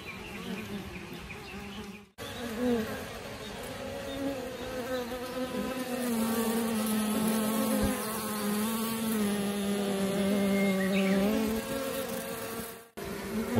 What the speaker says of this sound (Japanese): 5月19日の今、探索蜂が出入りしています。